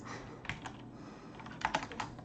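Rapid keyboard typing, close and steady, with a few sharper clacks near the end; no voices.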